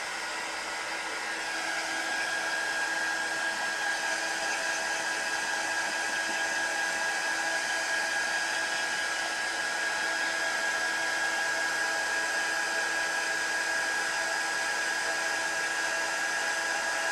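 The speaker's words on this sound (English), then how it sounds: "I'm gonna turn on the heat gun." A heat gun blows hot air steadily to dry a mixed media piece, a constant loud whirring whine with a fixed tone that holds unbroken for many seconds at close range.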